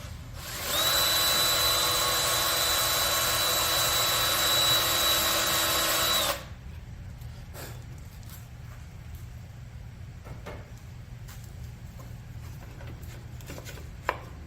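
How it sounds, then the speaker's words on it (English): A drill whines steadily at close range for about six seconds, then cuts off, leaving quiet room noise with a few small clicks. "So I drill until chips start falling and pull out"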